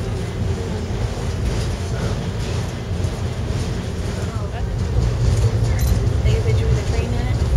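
A train rolling along rails in Alaska, giving a steady low rumble that swells slightly louder toward the end, with voices speaking over it throughout.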